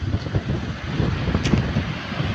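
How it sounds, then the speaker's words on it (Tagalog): Strong wind gusting outdoors during a sunny rooster self-toss session, a steady broadband roar with continuous buffeting against the microphone and no clear voices. "Grabe lakas ng hangin."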